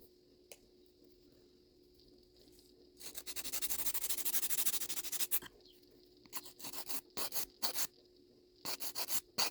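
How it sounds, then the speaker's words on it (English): Gel-polished nails lightly filed with a nail file, giving a soft broadband rasp that swells into a sustained stretch of steady strokes, then breaks into short, quick bursts; close and fairly quiet, with no talking. "I am very lightly filing because you don't want to get down to what we did underneath and lose your design"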